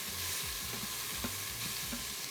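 Chili flakes frying in oil in a pan, giving a steady sizzling hiss with soft scraping strokes of a utensil stirring them around, close and continuous throughout.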